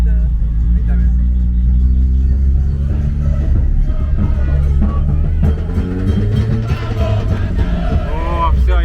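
A taxi drives through heavy traffic toward a football stadium in Argentina, with a fan bus nearby; a constant loud low engine rumble carries on throughout, with people talking over it.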